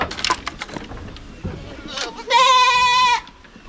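Goats bleat on a farm, one long, loud wavering bleat standing out after several shorter calls, with people talking in the background.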